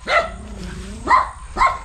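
Furry farm dogs bark three times at a rural plot with banana, rambutan and calamansi trees: sharp, fairly close yelps spaced about half a second to a second apart, with a thin whine trailing after the first.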